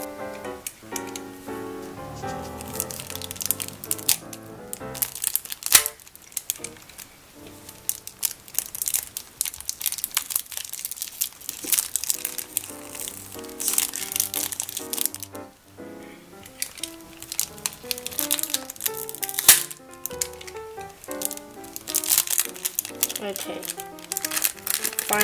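The plastic packaging of an Angstrom Valk M speed cube crinkles and crackles in bursts as it is opened, with someone talking over much of it.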